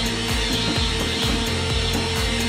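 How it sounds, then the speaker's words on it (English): Steady power sander running on wooden cable drums being prepped for paint, a loud continuous whir with a faint rhythmic pulsing, close and alone. "So to get these cable drums ready to paint, I wanna give them a sand."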